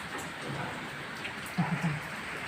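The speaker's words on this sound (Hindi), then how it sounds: "बहुत तेज़ बारिश हो रही है" Heavy rain pours down steadily during a storm after strong winds, a dense even hiss with a few brief closer thuds near the end and no voices.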